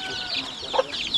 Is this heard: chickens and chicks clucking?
yes